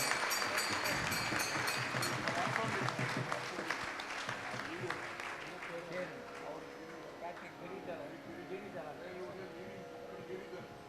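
A crowd at a Radha Kalyanam festival in Vellore claps loudly at first, the applause thinning and fading over several seconds while voices murmur.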